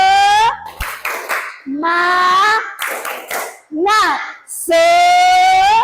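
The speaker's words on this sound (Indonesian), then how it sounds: "Tepuk semangat. 1, 2, 3. Tepuk semangat." Children stand and perform a rhythmic clapping chant in a classroom, bursts of sung chanting alternating with sharp patterned hand claps, loud and close, a teacher's voice leading between rounds.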